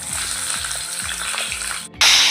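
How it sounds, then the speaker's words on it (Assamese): Fish bones fry in hot oil in a steady, close hiss, which swells abruptly louder near the end. "এতিয়া তেল দিলোঁ প্ৰথমে কাঁইটকণ ভাজি লওঁ"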